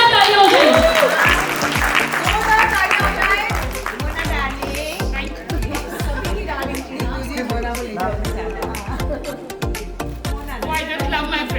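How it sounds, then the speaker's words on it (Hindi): An audience at a book launch applauds, a dense, rhythmic patter of many hands clapping that fades a little partway through and then carries on steadily. "एक बार जोरदार तालियां हो जाए।"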